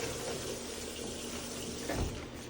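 Running water rinsing drainage bag equipment in a sink, a steady close splash that continues without a break for a couple of seconds.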